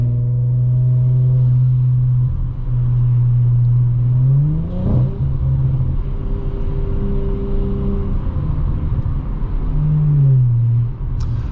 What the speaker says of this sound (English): if you're able to live with the drone, this is a very nice sounding exhaust in this car